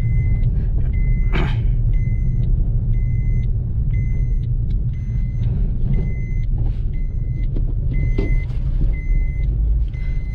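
2020 Suzuki Ignis BS6 car driving, a loud continuous low engine and road rumble from inside the cabin, with a repeating electronic beep chiming at regular intervals.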